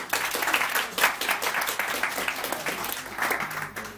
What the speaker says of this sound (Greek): ένα χειροκρότημα σε εσάς